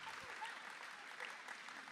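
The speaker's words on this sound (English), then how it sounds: "you guys can clap as you want to this morning" An audience claps for a singleness panel, a soft, even wash of applause throughout, faint and distant, with a few voices mingled in.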